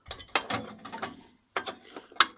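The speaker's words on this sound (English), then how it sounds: "I'm just going to use one of these ratchet ring spanners to do this" Ratchet ring spanner working a bolt on a towbar being fitted to a 2011-2015 Hyundai i30, giving close, bursty metallic ratcheting clicks in short runs separated by a brief pause.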